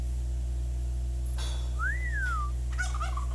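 A turkey gobbles once with a rising-and-falling warble, followed by a shorter burst of gobbling calls, over a steady low hum.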